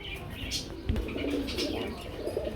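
Pigeons, including Telma-type birds, coo softly at a busy pigeon market, with throaty calls, a few chirps and a brief wing flutter over a murmur of background noise.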